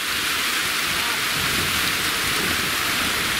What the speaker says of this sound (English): Have a listen to the rain.